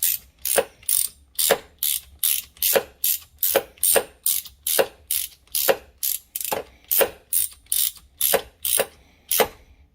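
A ratchet wrench clicks in rapid, evenly spaced bursts while snugging the oil filter cap on a 2021 Sea-Doo GTI SE 170, about twenty sharp close pawl clicks with no talk over them.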